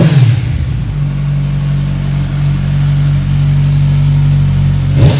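A 1000cc sport bike engine runs close by with a loud, steady, throaty hum that holds nearly level for several seconds, with slight swells at the start and end.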